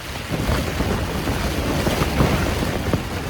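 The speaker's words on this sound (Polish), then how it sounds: "Ale się zrobiła ulewa, burza i deszcz. Nie, deszcz i wiatr." Wind and rain batter a tent on Aconcagua during a mountain storm, a steady roaring rush with gusty swells and patters, close and loud, with no voices.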